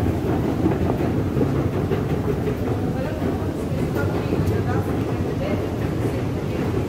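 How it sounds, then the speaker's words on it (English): A London train to Brixton rumbles steadily along the rails with a dense, continuous roar and faint rhythmic clatter, heard from inside a carriage. "Getting the train to Brixton."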